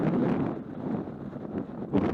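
Headwind buffets the microphone of a cyclist riding a field road in Japan, a steady low rumble swelling and gusting in bursts, with no voices.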